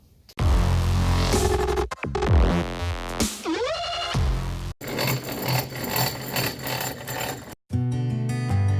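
Power tool polishing an old knife blade bought at a flea market, loud close whirring and grinding in several bursts with changing pitch, broken by brief pauses.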